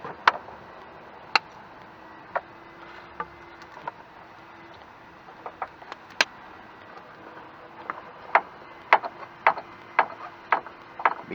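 Radiator hose clamp on a 2007 Chevrolet Equinox being tightened by hand, sparse sharp ratcheting clicks close up that come faster and in quick bursts toward the end, with no talk.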